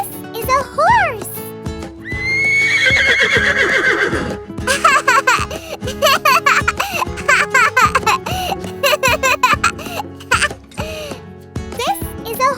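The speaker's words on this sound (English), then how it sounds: "This is a horse!" A cartoon horse neighs with a loud, bright whinny, then goes on with rhythmic whinnying sounds over upbeat children's music, with a voice and laughter woven through.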